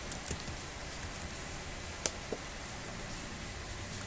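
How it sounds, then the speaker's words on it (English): Heavy rain falling outdoors, heard from inside as a faint, steady hiss with a few soft ticks and taps scattered through it. "It's raining quite heavily over here"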